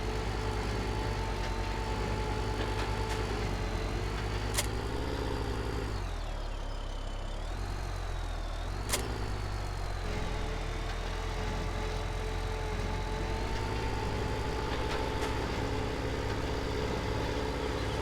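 A tractor engine runs in Farming Simulator 17, holding a continuous droning hum for the full stretch, dipping briefly in the middle before steadying again, with no voices over it.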